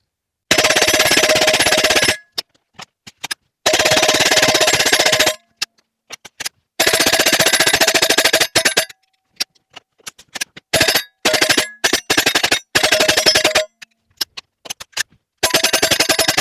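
Suppressed .22 rifle shots through a Flow 22Ti titanium suppressor fire loud and close in bursts of rapid cracks, some stretches sustained and others broken into single shots with short gaps between.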